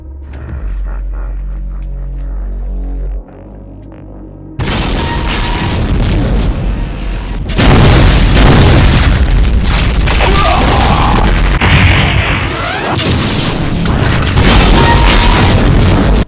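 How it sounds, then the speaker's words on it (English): BFG 10K and Demon Tech BFG shots in a Doom mod erupt into a loud, continuous wall of booming blasts and crashing explosions after a quieter opening with a low hum and tonal sounds. "BFG 10K shots, the Demon Tech BFG shots"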